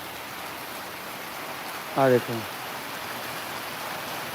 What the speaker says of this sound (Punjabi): ਪੂਰਾ ਫੁੱਲ ਤੇਜ਼ ਮੀਂਹ ਪਈ ਜਾਂਦਾ